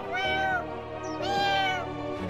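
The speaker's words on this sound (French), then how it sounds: "le pauvre chaton a tellement peur qu'il peut pas s'empêcher de pleurer" A frightened kitten in a children's cartoon gives two long, wavering meows, close and clear, with a short gap between them and no talking.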